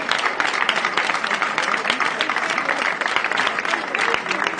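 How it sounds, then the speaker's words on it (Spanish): A street protest crowd claps for the Pro Soterramiento platform, a steady, loud wash of applause that holds evenly for several seconds with no pause. "Yo creo que un aplauso a la plataforma"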